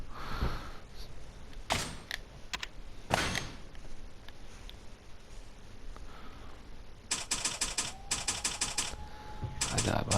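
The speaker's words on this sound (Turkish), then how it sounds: "Tuşlara basıyorum herhangi bir şey olmadı." Game controller or keyboard buttons are pressed in rapid clicking bursts, faint and close, with a dense cluster of quick taps near the end. A quiet background hum and occasional soft talk sit underneath.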